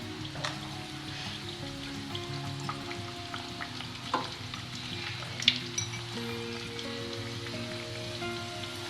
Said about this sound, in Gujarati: ગરમ તેલમાં પાડતું જવાનું છે.